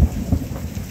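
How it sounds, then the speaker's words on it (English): Thunder rumbles over a steady downpour of heavy rain during a tornado storm, loud and close, with no voices. "This is a huge storm out there. It's raining like crazy."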